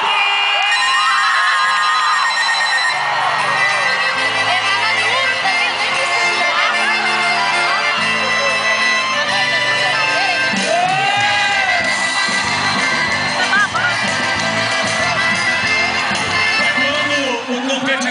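A rodeo crowd in Santa Helena de Goiás shouts, whoops and cheers continuously, a dense, loud roar of many voices with an announcer talking over it throughout.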